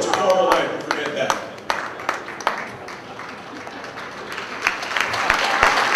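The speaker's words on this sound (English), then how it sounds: "I take my tie off and you're applauding" Audience at a keynote address claps warmly while a man takes his tie off onstage, a dense patter of many hands with scattered sharp claps, swelling again toward the end as voices mix in.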